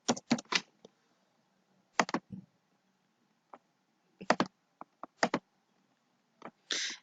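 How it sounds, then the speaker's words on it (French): A password is typed on a computer keyboard: sparse, quiet keystrokes arrive in short irregular clusters of clicks separated by pauses. "J'écris un mot de passe."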